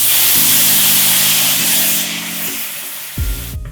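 A cup of wine poured into a hot pan for chicken saltimbocca sizzles and hisses loudly at once, a steady spitting roar that eases over a few seconds, with clanking metal tones over it.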